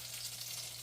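Battered pollock fillets fry in oil with a soft, continuous sizzle and faint crackle over a steady low hum.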